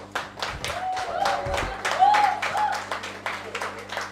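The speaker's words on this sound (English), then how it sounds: "Let's clap, guys." An audience at a debate academies event claps for the debate champions, a scattered run of hand claps heard under a voice speaking over them.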